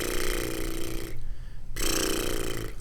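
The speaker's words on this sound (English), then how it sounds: "Loosely have your lips together and move air through the lips." Lip trill vocal warm-up with air pushed through loose lips, a buzzing voiced flutter held for about a second, a short break, then a second sustained trill, close and loud.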